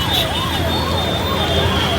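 A police siren wails in a steady rising-and-falling cycle, loud and close, over a constant rumble of traffic and crowd noise at the Rath Yatra procession in Surat.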